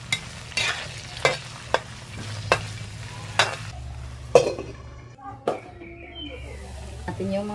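Chili and kangkong greens stir-fried in oil with garlic in a pan, a soft continuous sizzle punctuated by repeated sharp scrapes and clinks of a utensil against the pan, with faint talk.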